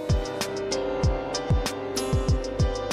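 A non-copyright instrumental beat plays with punchy deep kicks, crisp hi-hat and snare hits in a steady groove, and sustained chords underneath, with no voices.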